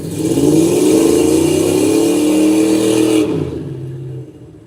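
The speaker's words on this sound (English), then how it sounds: "beautiful black Chevy Camaro doing a long smoky burnout" A black Chevy Camaro holds a loud, sustained rev through a long smoky burnout, close by, its engine tone climbing and wavering before cutting off and fading with a brief lower rumble at the end.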